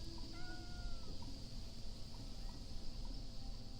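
Cats in the video game Reus 2 meow repeatedly in short, thin calls over a steady hum of game ambience, faint and mixed into the background.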